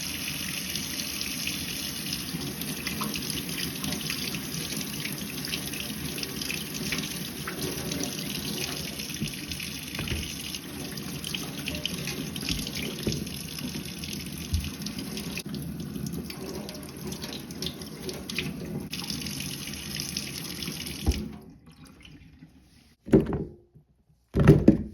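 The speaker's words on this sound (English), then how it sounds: "First, we need to give these a good rinse." Lemons are rinsed under a steadily running kitchen tap, a continuous close splash of water for about twenty seconds before it stops, followed by a couple of faint knocks.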